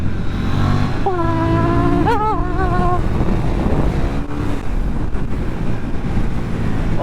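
A KTM 990 Duke motorcycle ridden at speed gives a loud engine drone under heavy wind rush, with a sharp throttle blip and rising revs partway through and the engine note shifting as it pulls.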